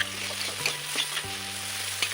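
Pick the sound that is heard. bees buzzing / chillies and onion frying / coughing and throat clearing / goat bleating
chillies and onion frying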